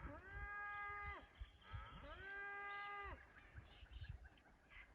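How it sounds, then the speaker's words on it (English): Cows in a high paddock, moved uphill away from flooding, give two long drawn-out moos in succession, fairly clear over quiet farm ambience. "the cows over here are all been pushed up into the high paddock for the flood"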